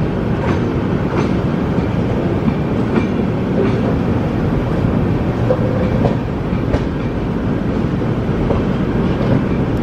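Gujarat Sampark Kranti Express rolling onto a bypass line near Chhayapuri station, with a steady loud rumble and rhythmic clickety-clack of wheels over rail joints, continuous and close from on board.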